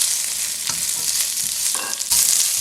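Carrots and other vegetables stir-fry in sesame oil for a Mauritian upside-down bowl, a loud sizzle broken by quick stirring scrapes and a sharp surge of hissing near the end.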